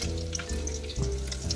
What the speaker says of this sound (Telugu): ఫస్ట్ ఆనియన్స్ తీసుకుందాం, కొంచెం ఫ్రై చేసుకోవచ్చు